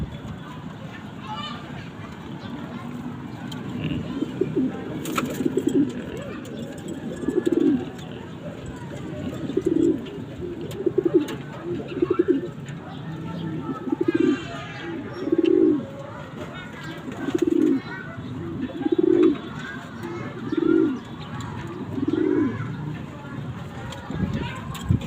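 Young pet pigeons or doves cooing outdoors while feeding: soft repeated low coos in a steady rhythm, fairly close, with background noise and a person talking intermittently.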